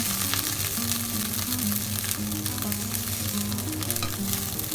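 Onions being stir-fried in a pan for Thai-style pork meatballs in white wine sauce, a steady close sizzle and scraping stir running throughout under a faint musical tone, with no talking.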